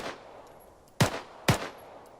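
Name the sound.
gunfire from a video game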